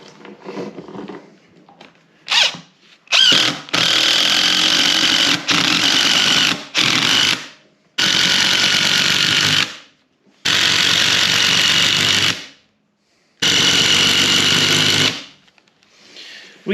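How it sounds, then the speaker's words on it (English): Power driver sinking a screw at an angle into a black walnut log for a rustic bench; loud, close whirring bursts of a few seconds each, stopping and starting several times with short silent gaps, no talk. "So we should be able to screw right down into that log at an angle there"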